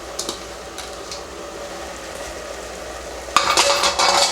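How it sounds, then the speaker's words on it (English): Mushrooms drop into a hot frying pan for cheeseburger soup, starting with a few faint scrapes and light clinks, then breaking into a sudden loud, bright sizzle close by during the last second, with no one talking. "I'm going to go ahead and I'm going to add my mushrooms"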